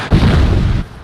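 A loud, close bomb explosion, one deep booming blast that rolls on for about a second before cutting off.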